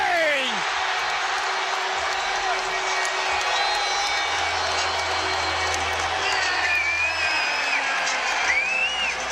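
Basketball arena crowd cheering and roaring after a Cavaliers three-pointer against the Oklahoma City Thunder, a steady loud wall of noise with whistles and whoops rising over commentary.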